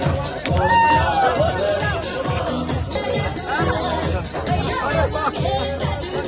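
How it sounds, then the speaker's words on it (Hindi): A crowd gathered at a state party president's residence in Uttarakhand, a continuous babble of many voices close by with overlapping chatter and shouts throughout. "उनके आवास पर काफी भीड़ भाड़ नजर आई"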